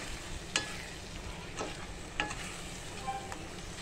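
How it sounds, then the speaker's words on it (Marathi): Onion-tomato masala for chana paneer masala sautéing in a pan: a continuous close sizzle of frying with several sharp spoon scrapes and taps against the pan as it is stirred, no voices present. "अशा पद्धतीने आपण हा मसाला छानपैकी परतून घ्यायचा आहे"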